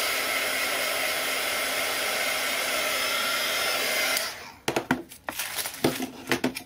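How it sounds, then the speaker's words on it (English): A heat gun blows a steady, loud broadband roar while drying an art journal page, then cuts off after about four seconds, leaving a few sharp knocks and clatters close by. "Run a quick dry over it."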